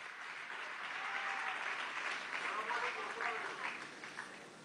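Applause from an audience at a Venezuela Digital 2017 fair closing event, a few seconds of distant, moderately dense clapping swelling and fading, with faint voices mixed in.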